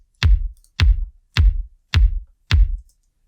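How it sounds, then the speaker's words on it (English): Solo synthwave kick drum, five deep, punchy thumps at an even pace, each decaying quickly into silence. "So the kick first on its own sounds like this"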